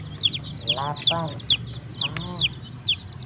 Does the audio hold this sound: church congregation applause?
no